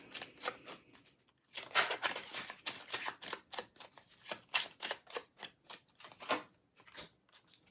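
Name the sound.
drawing and laying out Kipper tarot cards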